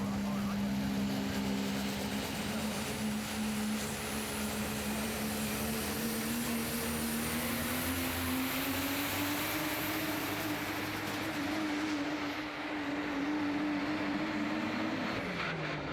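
An unlimited super stock diesel truck engine screams at high RPM through a tractor pull, a loud sustained roar with rising pitch held for the whole run before cutting off near the end.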